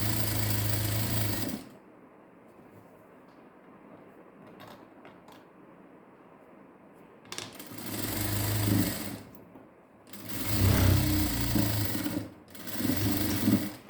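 A sewing machine stitches a diamond neck design on a garment in bursts: a loud whirring run, a long quiet pause with faint handling noises, then several more close stitching runs of varying length.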